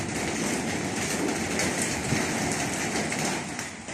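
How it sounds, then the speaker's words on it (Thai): Steady, heavy rain hisses and patters without a break, with a broad rushing wash that suggests wind, and no voices. "มีทั้งลมทั้งฝนเลย"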